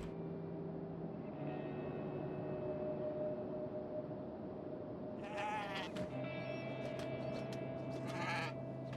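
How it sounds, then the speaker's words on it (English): A goat bleats twice in Kenshi, a near, wavering cry each time, over a steady ambient hum. "A goat has entered the battle."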